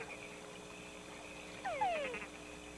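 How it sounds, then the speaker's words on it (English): Naturalists play back a recorded chorus of several frog species, heard quietly with a couple of short, rising croaks just past the middle over a low background hiss. "the naturalists play a recording which includes the croak of a variety of frogs"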